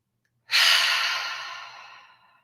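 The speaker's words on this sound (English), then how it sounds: "take a deep breath in" A single deep breath is let out as a loud, audible exhale, sighing up close and fading gradually over about two seconds in an otherwise quiet room.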